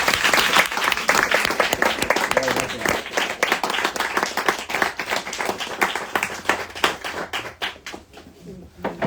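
A crowd at a book presentation in a bookstore breaks into loud applause that gradually thins out and fades toward the end.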